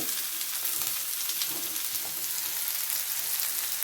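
Bitter gourd pieces frying in oil until golden and crispy: a close, continuous sizzle and crackle at steady loudness with faint stirring, and no voices.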